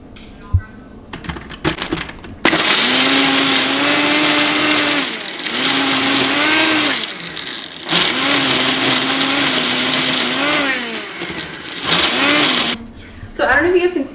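A blender whirs through iced coffee, espresso, banana, ice and a pinch of cinnamon in three loud, steady bursts, each stopping abruptly, with speech heard during the brief gaps between runs.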